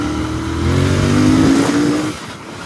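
A Royal Enfield Continental GT 650 motorcycle engine revs and pulls away, its steady mid-pitched drone rising in pitch over about two seconds before easing off, loud and close with no talk.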